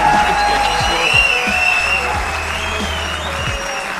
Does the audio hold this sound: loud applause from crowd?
yes